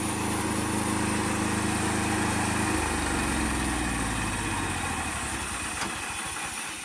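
A Bozeman bandsaw mill engine idles with a steady, droning hum, then drops lower partway through as it idles down, running continuously with no voices.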